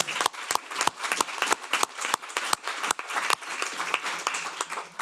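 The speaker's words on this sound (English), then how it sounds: "I'm glad that you all clapped spontaneously in response to the minister's speech" An audience at an education-in-emergencies conference event applauds after a minister's speech, with dense, steady clapping close by that carries on for several seconds with no voices over it.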